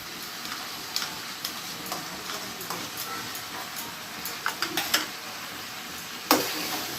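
Mutton frying in a pan with mutton fat and sour yogurt, a steady, fairly loud sizzle throughout, broken by scattered clicks and a sharp clatter from a stirring utensil near the end.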